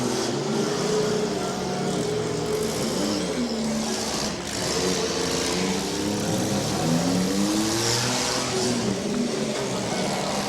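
The number 97 car at a 2013 Portage County demolition derby revs hard while wedged between dead cars against a concrete barricade. The engine roars loudly and near, its pitch climbing and falling in repeated surges over a noisy crowd background.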